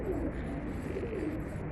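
Low, gentle cooing from pigeons, a few soft warbling calls over steady ambient noise.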